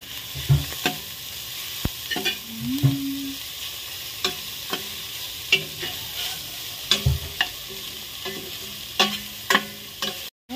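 Bone-in chicken pieces going into a hot cooking pot for chicken soup, a steady sizzle punctuated by repeated sharp clinks and scrapes of a utensil stirring, close and fairly loud, without talk.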